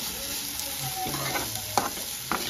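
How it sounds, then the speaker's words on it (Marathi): Onion sizzles quietly in a pan as it is dry-roasted for misal, with a steady frying hiss and occasional scraping stirs of a spoon. "मी इथं कांदा भाजायला घेतलेला आहे"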